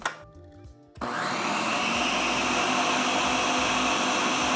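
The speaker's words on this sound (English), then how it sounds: "I'm gonna make this in a blender and I'm gonna blend the hell out of it" A blender whirs into a loud, steady high-speed roar as it blends a G Fuel popsicle mix, starting after a brief quieter moment and running continuously.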